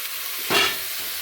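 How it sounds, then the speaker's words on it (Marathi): Steamed filling for tur dal bhaji turned over in hot oil in a pan, a single brief close sizzling swish of stirring with no talk. "तरी थोडंसं तेलामध्ये खालीवरी करून घ्यायचं थोडंसं तेल त्याच्या अंगाला लागू द्यायचं"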